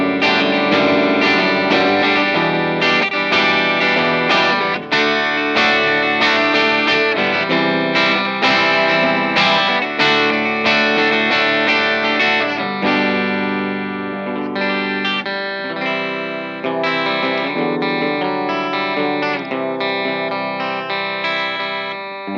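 A clean electric guitar played through a Vox AC30 amplifier rings out alone in a continuous run of strummed chords and picked notes, full and shimmering with a touch of chorus-like ambience.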